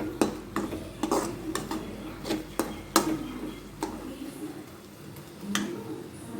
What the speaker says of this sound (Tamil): வேகிற வரையும் கிண்டிகிட்டே இருங்க, அடி பிடிக்காமல்